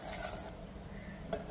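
A spoon stirs almond broccoli soup in a pot, making soft scraping and swishing strokes, faint and brief, with a small clink near the end.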